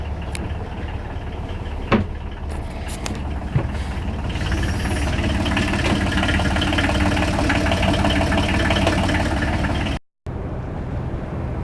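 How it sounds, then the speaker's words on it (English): Quiet inboard engine idling below deck on a Hanse 315 sailboat in the water, a steady low rumble running continuously with a couple of brief knocks and a short dropout near the end. "Down below, this engine's crazy quiet. It is on, but you can barely hear it."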